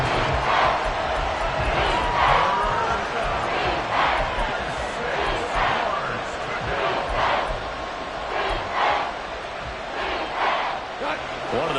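Stadium crowd at a football game roaring and cheering steadily ahead of a big third down, a dense continuous wash of voices with swells of louder shouting throughout.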